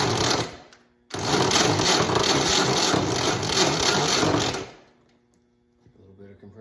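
A WWII Jeep engine cranking on the starter during a compression check, a loud rapid mechanical churning in two bursts, the longer one lasting about three and a half seconds, then stopping into near silence.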